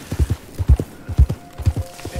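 Horse hooves in Red Dead Redemption 2 clip-clop in a steady, close walking rhythm, each step a dull low thud, with a faint tone lingering in the background.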